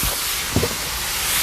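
Vegetables with teriyaki sauce and a splash of chicken stock steam on a hot griddle under an accessory lid, giving a steady, loud, broad hiss with a brief thump partway through.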